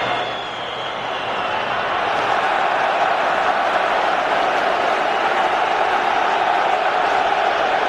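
About 7,000 Croatia fans create a steady, roaring wall of crowd noise in a football stadium during a 2007 England v Croatia match, a broad, sustained cheer with no breaks.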